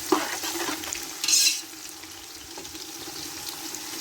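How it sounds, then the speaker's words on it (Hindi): Garlic frying in a pan for chicken rice, giving a steady hiss of sizzling oil with one brief scrape of stirring, close and fairly even, no talking. "अब इसमें जाएगा गार्लिक डालकर उसको थोड़ी देर के लिए पकाएं।"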